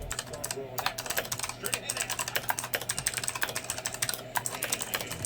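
Rapid, steady clacking of a Razer Huntsman Elite mechanical gaming keyboard being typed on, close and continuous, with a brief pause midway.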